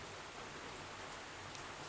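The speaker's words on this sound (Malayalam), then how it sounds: "പുറത്തതേ നല്ല മഴയാട്ടോ" Steady heavy rain falls outside, a soft, even hiss that holds unchanged the whole time with no voices over it.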